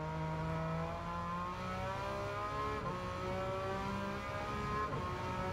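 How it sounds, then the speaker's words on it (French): A rotary-engine sports car revs hard, its buzzing engine note climbing and falling in continuous loud sweeps for the whole stretch, close and with no talking. "T'as l'impression qu'il y a un moteur de F1 dedans"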